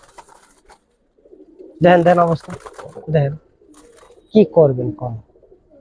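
Giribaz pigeons in a loft coo in several short, loud bursts, with a voice speaking briefly between calls.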